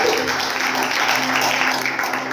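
A church congregation applauds the Lord, a steady dense wash of clapping lasting the whole moment, with a sustained low hum underneath.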